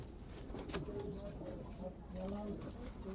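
Soft pigeon cooing repeats at low pitch, close by in a pigeon loft, with faint rustling and some background voices.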